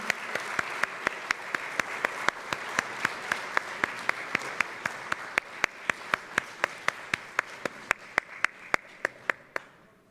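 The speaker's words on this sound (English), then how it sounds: "please give a big round of applause to Priest Modi Seihan." A conference audience in the main hall of the IGF 2023 gathering applauds steadily. A few sharp claps stand out close by in an even rhythm over the softer crowd clapping, and the applause cuts off abruptly at the end.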